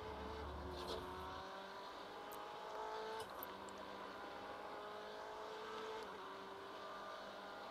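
A race car engine in the iRacing sim, driving the 12 Hours of Sebring IMSA endurance race, holds high revs with rising and falling pitch through upshifts, heard quietly and steadily without talk.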